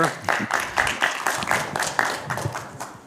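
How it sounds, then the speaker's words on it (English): Applause breaks out for Dr. Knapp as he is called to the stage, clapping coming in uneven bursts with a voice speaking over it. "Round of applause for Dr. Knapp."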